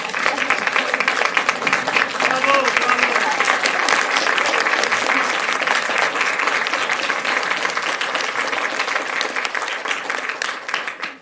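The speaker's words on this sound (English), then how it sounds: "let's all clap and stand for her for a standing ovation for Miss Jo Defoe" A crowd claps for an art teacher in a standing ovation, a sustained, even roar of applause that holds steady for several seconds before tapering slightly at the end.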